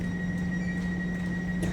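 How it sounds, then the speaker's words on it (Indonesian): A train stands at Nuremberg station, where a Nightjet sleeper train bound for Vienna and Innsbruck waits, giving a steady mechanical hum with a constant tonal whine and no voices. "Itu di sana ada night jet, itu kereta ke arah Wiener, Austria, sama Innsbruck."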